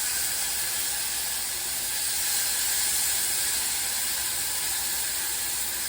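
Very hot broth poured onto browned rice for Mexican rice sizzles in a loud, steady hiss with a dense crackle, continuous for several seconds with no talk.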